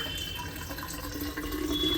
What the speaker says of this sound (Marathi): पाणी गरम झाले, ओतून घेते